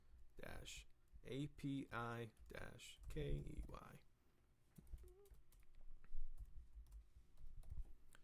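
Computer keyboard typing, faint quick clicks and taps behind a man's speech at first, then alone as a light patter of keystrokes.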